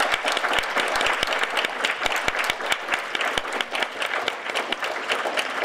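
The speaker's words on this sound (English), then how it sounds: "let's give our candidates a round of applause" Audience at a city council candidate forum applauding the candidates, a loud, dense round of clapping from a crowd in a room, with sharp individual claps standing out and sustained to the end.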